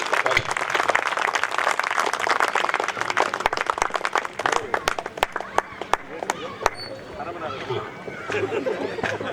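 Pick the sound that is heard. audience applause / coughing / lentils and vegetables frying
audience applause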